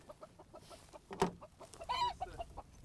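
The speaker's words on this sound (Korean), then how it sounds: "암탉들이 하나씩 하나씩 낳았어요." Hens in a mobile coop set in an overgrown rice paddy cluck while laying eggs. Their short, close clucks come in irregular bursts, ending in a louder squawking cackle.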